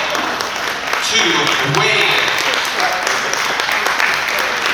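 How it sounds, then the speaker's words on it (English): Steady applause from wedding guests during toasts fills the whole stretch, dense clapping with cheering, while a voice speaks briefly over it. "Round of applause"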